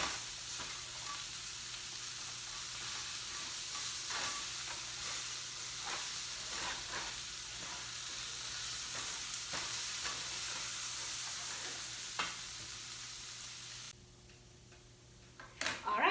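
Stir fry with spruce tips sizzling loudly in a hot pan, with repeated close scraping and clicking strokes of stirring over a steady hiss that cuts out abruptly near the end when the heat is turned off.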